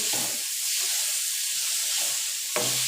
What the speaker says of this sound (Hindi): टमाटर डाल के थोड़ी देर भूनेंगे